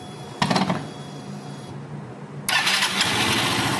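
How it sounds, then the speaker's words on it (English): A Yamaha BWS Zuma 125 scooter engine cranks briefly, falls back, then catches and settles into a loud, steady buzzing idle close by. "Start the scooter."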